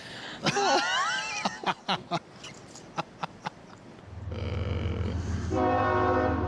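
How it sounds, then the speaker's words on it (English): A train rolls past beside the tracks, building into a loud, steady rumble with sustained horn-like tonal bands over the last couple of seconds, after a stretch of nearby conversation with short bursts of speech. "Ooh, train. Perfect timing."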